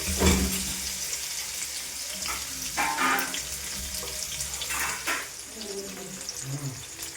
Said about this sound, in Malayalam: നമ്മൾ മസാല കയറ്റി വെച്ചിട്ടുള്ള മീൻ ഇതാ എണ്ണയിലേക്ക് ഇട്ട് കൊടുത്തിട്ടുണ്ട്